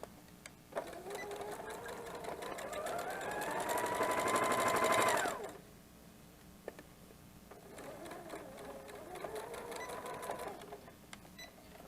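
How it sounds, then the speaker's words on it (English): A sewing machine stitches a fabric water bottle cozy in two running bursts, the motor whirring up in pitch during the longer first run, then a shorter second run after a pause, close and clear. "I'm going to take a second and sew this up."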